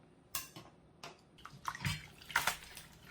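Lettuce is rinsed and squeezed in cold water in a bowl, giving close, irregular splashes and sloshes with a few faint knocks against the dish.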